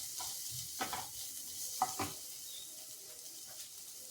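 Curry with coconut oil just poured in sizzles softly and steadily in the pan, with a few brief stirring scrapes standing out over the quiet hiss, no voices.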